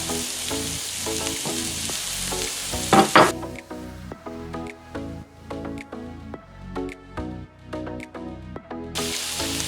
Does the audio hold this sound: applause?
no